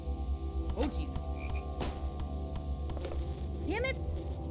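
Frog croaking in a horror video game, a few short croaks over a low droning ambient background, with a person talking quietly at times.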